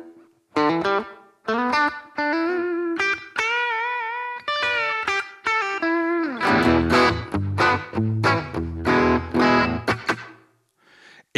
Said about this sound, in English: we switch to a room reverb